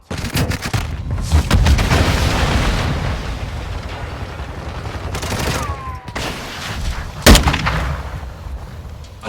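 Dense, loud bursts of gunfire and grenade blasts fill a Modern Warfare 2 split-screen team deathmatch, with a flash grenade cracking sharply near the end amid continuous shooting and explosions.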